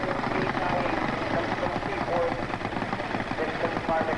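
A 1,200-pound super stock pulling tractor with a small Army-surplus blower under the hood, at a 1987 Lucknow, Ontario tractor pull. It gives a loud, steady, pulsing engine roar for the whole stretch.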